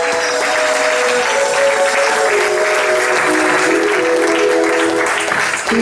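A church congregation at a seminary service claps in a loud, sustained ovation of acclamation, dense and even throughout, with faint tonal music or voices ringing underneath.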